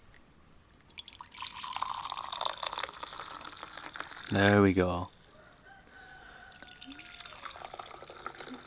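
Black coffee poured into a cup at a coffee farm in El Salvador, a short gurgling stream lasting under a second amid outdoor ambience with a rooster crowing and people talking.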